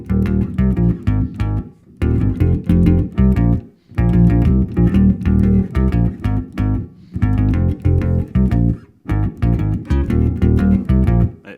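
A bass guitar plays the synth bass riff from a song as a punchy, repeating phrase in close, loud bursts split by short gaps, with no talking.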